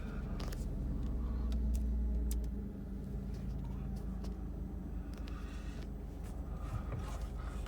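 A 2002 Kia Sedona engine with a newly replaced power steering pump and high-pressure hose cranks and catches on a cold day, then settles into a steady low idle rumble, close and fairly loud, with no voices.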